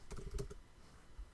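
A computer keyboard clatters in a quick cluster of soft keystrokes, then falls quiet before one last faint tap, all low in level.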